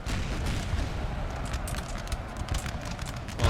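Cavalry horses gallop in the Napoleon Total War video game, a dense continuous drumming of many hooves mixed with distant gunfire and battle noise, loud and sustained throughout.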